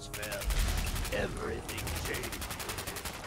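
Gunfire in the video game Fallout 4: a rapid, steady stream of shots runs throughout, with bursts of game voice and effects mixed over it.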